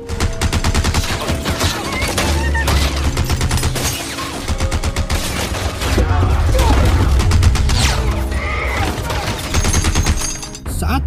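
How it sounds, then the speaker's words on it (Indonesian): A Gatling gun rakes a town in a Western film, long sustained rattling bursts of rapid fire, loud and close, with a narrator's voice speaking over the shooting. "Bagwe mulai menembakkan senapan Gatlingnya ke kota sehingga menewaskan"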